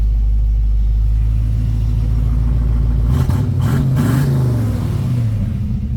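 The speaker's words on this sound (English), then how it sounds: "She fires right up." A 1972 Ford Mustang Sprint V8 idles loud and steady, then from about three seconds its engine revs in a few quick blips that rise and settle back, close up with no talking.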